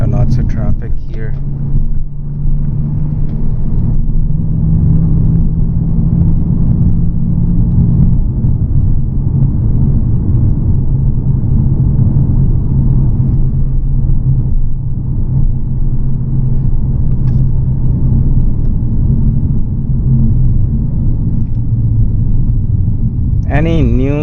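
Steady low road rumble and engine drone fill the cabin of a moving car in heavy traffic, constant and fairly loud throughout, with a voice talking over it.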